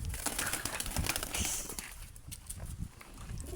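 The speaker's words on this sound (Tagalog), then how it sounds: "Ito yung mga kalapati namin." Outdoor birds with soft, low cooing and fluttering, plus scattered knocks and rustles, a steady background level throughout.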